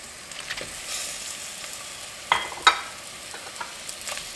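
Onions and leeks sizzling in warm butter in a soup pot, a steady soft hiss with a couple of sharper clicks of a utensil against the pan midway.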